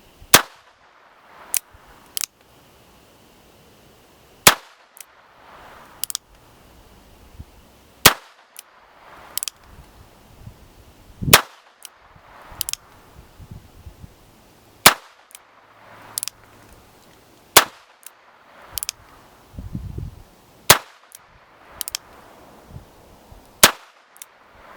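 Single .22 LR shots from a lightweight S&W Model 317 Kit Gun revolver, sharp light cracks spaced a few seconds apart, a dozen or more across the stretch with quiet gaps and faint handling noise between.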